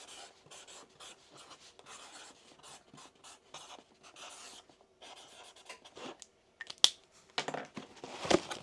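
Marker or pen scratching a name onto a cup at a small business counter, a faint, steady rubbing scrawl made of short strokes, with a few louder knocks near the end.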